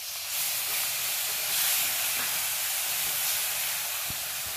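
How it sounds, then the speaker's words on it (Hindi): Tomatoes dropped into hot masala in a pan for a vegetable multi masala, giving a loud, steady broadband hiss of sizzling that swells slightly and holds throughout, close and alone. "और अब हम इसमें डालेंगे ये टमाटर।"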